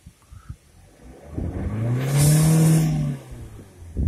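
A Renault Megane's engine idles quietly, then revs up into a loud, rising whine that holds briefly and falls back to a low idle, with no talking.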